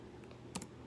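Numbers typed on a computer keyboard: a few faint, quick key clicks over quiet room noise, with one slightly louder pair of taps near the end.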